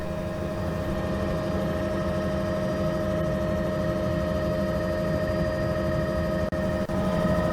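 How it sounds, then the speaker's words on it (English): A helicopter lifts off from Thursday Island in the Torres Strait, its rotor and turbine roaring loud and steady throughout, a continuous heavy drone from inside the cabin. "we took a helicopter over there, and so this is just taking off from Thursday Island."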